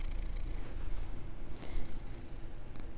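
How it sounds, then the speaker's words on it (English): A cat purrs steadily up close, a soft low rumbling throughout the short clip. "You give the people some purrs, Mr. M."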